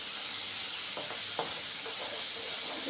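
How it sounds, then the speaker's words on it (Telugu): Amla pickle ingredients fry in a pan with a steady, close sizzling hiss, while a few faint scrapes of stirring break through in the middle. "ఇవి కూడా ఇలా తిప్పుతూ ఫ్రై చేసేసుకుందాం."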